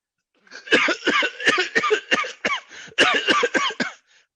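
A long fit of harsh, repeated coughing at close range, about a dozen coughs in two rapid bursts separated by a brief pause.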